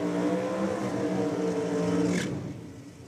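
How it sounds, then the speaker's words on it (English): A Pro Stock drag racing car at a 2023 Nitro Champs meet roars through a burnout with a loud, throaty engine growl that holds steady, then cuts off sharply near the end. "there's a big flash of flame out of it again when he's gone to hit the throttle in the burnout"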